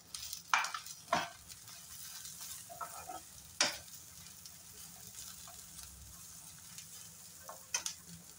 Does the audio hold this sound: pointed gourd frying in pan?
yes